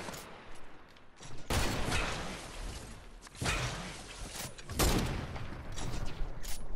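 Video game gunfire in a build-battle shooter, several loud broadband bursts of shots at about one to two second intervals, each followed by a short ringing tail, with no voices.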